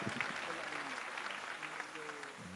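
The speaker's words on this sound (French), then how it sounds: "On l'applaudit 2 fois." An audience at a French prize-giving ceremony for the Concours général claps in a steady, moderately distant round, with faint voices mixed in beneath the applause.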